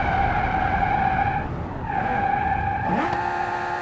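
Lamborghini Huracan tires skidding under hard braking in BeamNG.Drive, a sustained loud screech over steady engine roar, easing midway then rising again with a sharp squeal near the end.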